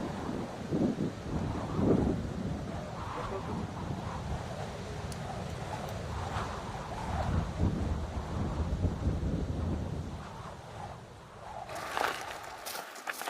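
Steady strong wind rushes and buffets the microphone outdoors in the Hautes-Alpes mountains, a continuous low roar with gusts swelling and fading.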